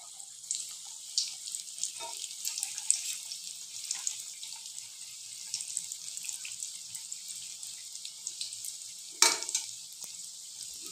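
Egg and flour rolls frying in hot oil, a steady close hiss and sizzle with faint crackles and one brief louder spit near the end, no voices.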